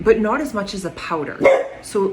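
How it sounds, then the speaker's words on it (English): A pet dog barks several times, close and fairly loud, in short repeated yaps mixed in with a person talking indoors. "that's my dog"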